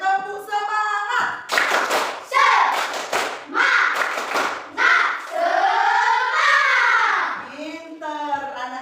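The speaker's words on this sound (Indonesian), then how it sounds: "Kita mulai tepuk semangat." A Grade 5 class performs the tepuk semangat routine in a classroom: sharp group claps and thumps in a set rhythm, alternating with children's voices chanting loudly in unison.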